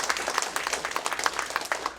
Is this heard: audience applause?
yes